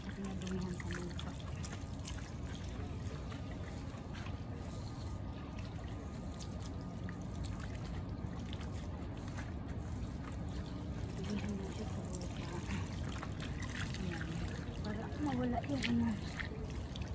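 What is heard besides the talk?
water rinsing off soil while washing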